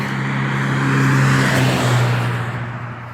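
A truck drives past on a city street in Florence, a close rising and falling engine rumble with road noise that swells and then fades over a few seconds.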